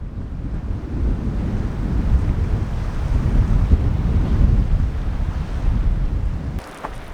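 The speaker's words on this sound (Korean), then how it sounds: "매일 오전 해가 뜨면서부터 불기 시작하는 바람은 점점 강해지다 해가 질 때가 돼야 잠잠해집니다" Strong valley wind in Mustang, in the upper Kali Gandaki valley between Annapurna and Dhaulagiri near Kagbeni, buffets the microphone with a loud, rumbling roar. Gusts swell and ease throughout, then drop away briefly near the end.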